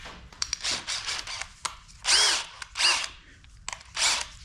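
A power drill with a small bit whirs in short bursts, spinning up and stopping several times, with a few small clicks between runs, close by, while working on a Mazda RX-7.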